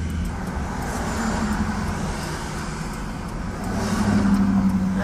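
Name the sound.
car driving past on the street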